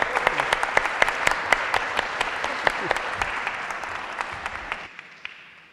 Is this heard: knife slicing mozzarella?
no